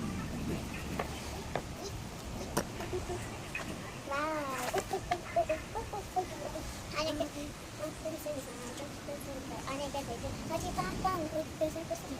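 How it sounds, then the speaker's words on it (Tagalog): Chickens clucking nearby in a series of short, rhythmic, warbling calls, repeated several times and mixed with people and someone talking in the background. "Chicken."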